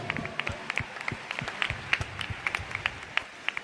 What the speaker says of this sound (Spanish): Un fuerte aplauso al Señor por el Padre Carlos.